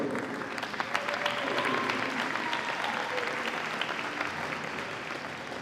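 Sustained, fairly loud crowd applause at a handball opening ceremony as teams are introduced, an even, dense clatter of many hands with scattered cheers holding steady throughout.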